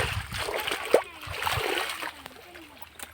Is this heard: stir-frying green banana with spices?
no